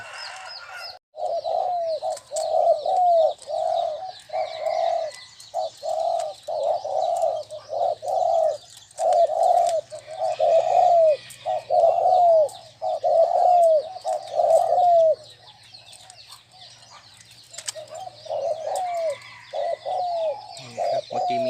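Repeated low zebra dove coos in steady phrases for most of the stretch, fairly close and clear, with a brief pause before a few more coos near the end.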